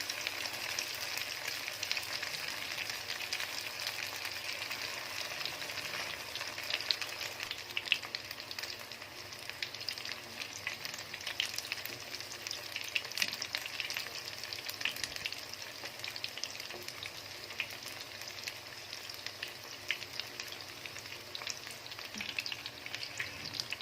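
Chicken noodle kababs fry on a low flame, giving a steady, even sizzle that holds close and moderately loud throughout with no talking over it.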